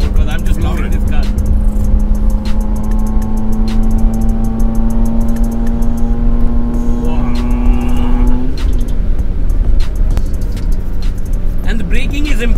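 A Maruti Zen small hatchback drives along with a loud, steady engine drone that climbs slowly in pitch, then drops as it shifts, with road noise throughout.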